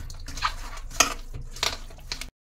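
Chicken pieces being mixed by hand in a bowl with chili powder, mustard oil and salt, giving a few close, wet squelching and clinking sounds in quick succession.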